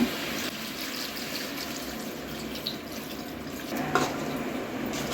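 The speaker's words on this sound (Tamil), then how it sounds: "தண்ணி ஊற்றி நல்லா கலக்கி விட்டுக்கோங்க." Water pours steadily into a pot of Chettinad chicken gravy with a continuous splashing gurgle, close by, a faint clink partway through and no talking.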